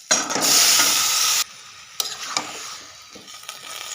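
Panch phoron spices and ginger dropped into hot oil burst into a loud hiss that cuts off abruptly after about a second, followed by quieter sizzling and a few sharp stirring clacks.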